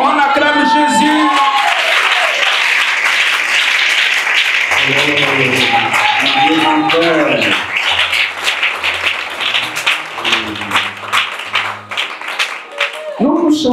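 Church congregation applauding and cheering for Jesus, sustained loud clapping and crowd cheering with shouting voices, continuing steadily throughout while people call out over it.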